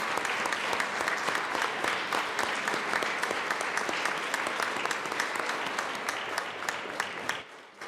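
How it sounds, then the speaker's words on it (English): Sustained applause fills a state legislative chamber for a grieving family honored on the floor, steady dense clapping from many hands that runs nearly unbroken before cutting off abruptly at the end. "A round of applause for the Padilla family"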